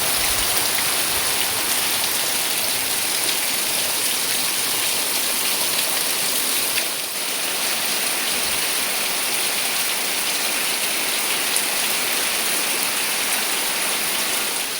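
A sudden, heavy downpour after a sunny spell roars steadily and loudly, a thick, unbroken wash of drumming rain on surfaces with no pauses or voices.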